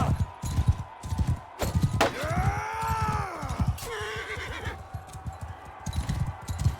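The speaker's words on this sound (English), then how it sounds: "Horse is not happy about that." A horse whinnies loudly in Mount and Blade Bannerlord, a long rising-and-falling neigh in the middle, with hoofbeat clip-clop and battle clatter running throughout.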